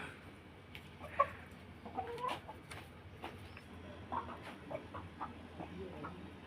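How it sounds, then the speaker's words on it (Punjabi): A Punjabi Aseel rooster clucks and calls near the microphone at a farm, with other fowl sounds and quiet human talk in the background. "ਬੜਾ ਚੰਗਾ ਕੁੱਕੜ ਆ"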